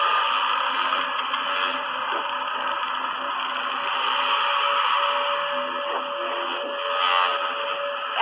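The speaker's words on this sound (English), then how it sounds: "The sound you're hearing is a light black hole banging on space each time it gets close." Simulated gravitational-wave sonification of a light black hole falling into a very heavy one: a steady hiss with sustained tones and faint repeated crackly pulses, fairly loud and continuous throughout.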